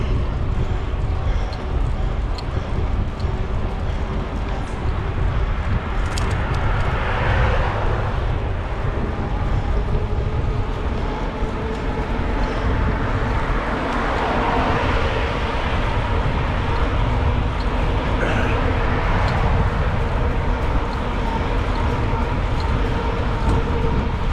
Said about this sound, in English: These tires have more road noise than my Jeep tires on my Gladiator Rubicon